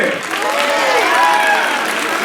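An audience at an Ugadi stage show claps in a dense, loud burst of applause, with voices sounding over the clapping throughout the short stretch.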